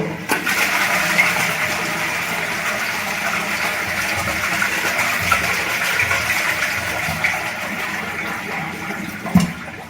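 An old toilet flushing after repair with a 3D-printed replacement part, a steady loud gush of rushing water that runs throughout, with a brief clunk near the start and another near the end.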